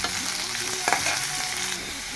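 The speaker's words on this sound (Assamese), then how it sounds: "মই ইয়াতে পলুখিনি আধা মই ইয়াতে ভাজি ল'ম।" Silkworms frying in a pan with onion and chili, a steady close sizzle with a stirring scrape in the middle, no voices.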